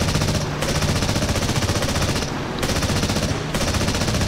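Sustained rapid machine gun bursts from aircraft gunners in the War Thunder combat game, loud and continuous, broken by two brief pauses between bursts.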